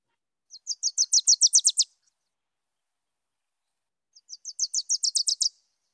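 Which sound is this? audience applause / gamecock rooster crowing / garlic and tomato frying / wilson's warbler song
wilson's warbler song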